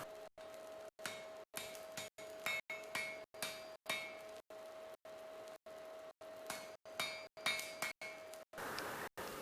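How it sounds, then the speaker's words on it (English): A hammer strikes hot steel tong nibs, bending them, in a steady series of sharp, ringing blows with short pauses, a clear metallic tone hanging between hits. "Get the nibs hot and gently bend them with your hammer"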